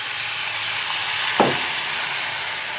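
Water hits a hot pan of fried ginger for a milk-and-cabbage curry, giving a steady, loud steamy hiss with one brief splash burst partway through.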